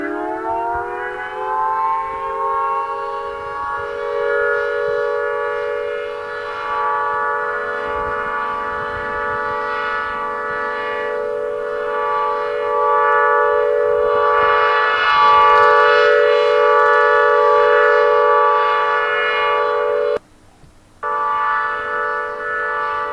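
A custom-built 1210 nine-port chopper siren with a slightly undervolted motor wails steadily and loudly for over twenty seconds, holding a rich chorded tone that swells near the end, briefly cuts out, then resumes.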